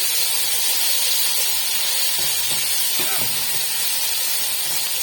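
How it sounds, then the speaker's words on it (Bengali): Ginger garlic paste hisses loudly in a hot pan, a constant close steamy sizzle with faint speech briefly underneath. "এখন আদা রসুনের পেস্ট দিয়ে দিচ্ছি। তারপরে একটু আদা রসুনের পেস্টটা একটু ভেজে একদম কাঁচা ভাবটা দূর করে নিব।"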